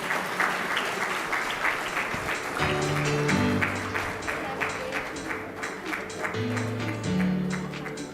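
A crowd at a women's conference in Bahrain keeps clapping for a prize winner, continuous indoor applause at moderate level with faint voices mixed in.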